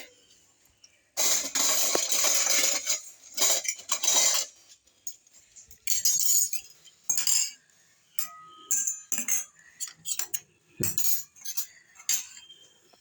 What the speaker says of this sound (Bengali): এইটা একটা বাটি। তিনজনের তিনটে বাটি আর একটু চামচ।